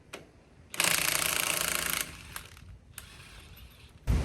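Lug nuts being loosened on a 2020 Ram Power Wagon 6.4L Hemi: a loud, sustained mechanical rattling burst lasting over a second, then quieter scattered clicks and knocks, and a short, sharp burst right at the end.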